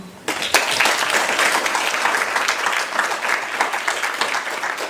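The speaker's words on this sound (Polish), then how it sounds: "dlatego wielkie, wielkie brawa i cieszymy się, że jesteście z nami" Audience applause at the Zaduszki Jazzowe jazz concert, a loud dense crowd of clapping that bursts in abruptly and holds steady throughout, close and full with no voices over it.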